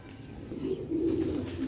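A golden pigeon, a breeder bird, gives a soft, low, close coo lasting under two seconds, a gentle throaty murmur with a slight rise and fall.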